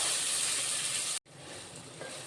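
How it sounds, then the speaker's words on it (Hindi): Chopped onions with mustard seeds and red chillies sizzling in a hot pan for sambar, a steady loud hiss that cuts off briefly and resumes slightly softer. "मीडियम आंच पर प्याज को मैंने 2-3 मिनट के लिए पका लिया है"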